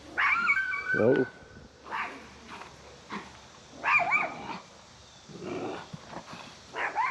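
A small dog barks and yips several times in short, separated bursts, fairly close, with some whimpering and a person speaking in between.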